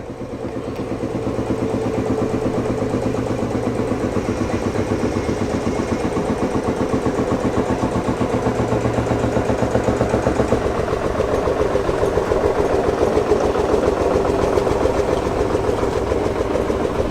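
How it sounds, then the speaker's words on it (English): A Field Marshal tractor's single-cylinder engine at a transport festival parade, chugging with a steady low rhythmic beat that builds and holds loud and close. "Fantastic engine notes. These sound incredible."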